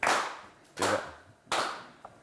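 Sparse, half-hearted applause from a game show audience comes in three short bursts of clapping, each fading quickly, fairly quiet with no talk.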